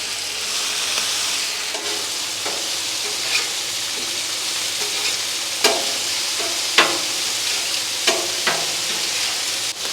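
Bacon sizzles on a Blackstone griddle at a low setting, a steady crackling hiss broken by occasional sharp pops and spatter, with no talking.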